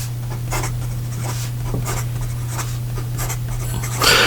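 A Visconti Homo Sapiens Midnight in Florence extra fine fountain pen scratches quickly across paper in short repeated strokes over a steady low hum, close and fairly quiet.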